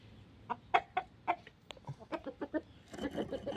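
Chickens clucking in a series of short, sharp calls, moderately near, overlapping into a busier burst of clucks toward the end.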